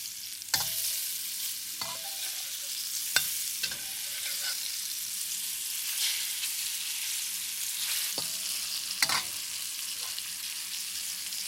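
Steady, close sizzling of salmon frying in a pan with chopped ginger, with a few sharp utensil clinks and scrapes breaking through at irregular intervals.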